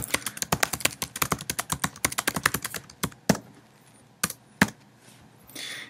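Fingers type an email address on a computer keyboard in a quick, close run of clicking keystrokes, then slow to a few scattered, heavier key presses.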